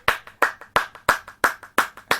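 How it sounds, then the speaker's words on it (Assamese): Children clap their hands together in a steady, rhythmic pattern, each sharp clap ringing out close and loud in a quick beat of paired strikes, with no voices over it. "হাত চাপৰি দিয়া"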